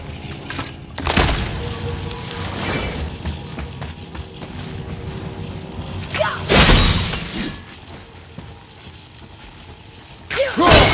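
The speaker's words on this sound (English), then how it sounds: "I will never get tired of shattering things with this." Objects shattering in the God of War video game, loud crashing bursts of breaking debris that arrive in three separate hits with a rumbling game soundscape between them.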